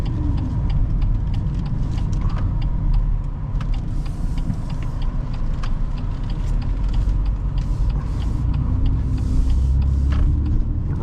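A 2021 BMW X2 M35i being driven, with a steady low engine drone and broadband road and tyre noise filling the cabin at constant loudness, along with faint clicks and ticks.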